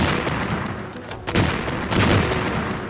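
Tank battle in Normandy with explosions and gunfire, a loud rumbling barrage with heavy booms rising around the middle and again toward the end, dense and continuous throughout.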